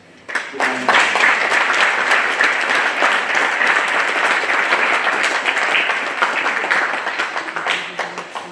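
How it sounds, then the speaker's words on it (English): Audience applause after a request for a big round at an Arangetram, a classical Indian dance debut; loud, dense clapping that starts abruptly after a brief quiet moment and carries on steadily for several seconds, tapering slightly near the end. "I would request a big round of applause"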